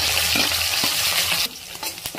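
Peanuts, chopped green chillies and curry leaves frying in hot oil, a loud dense sizzle that dips briefly, then crackles on with sharp spits and stirring scrapes.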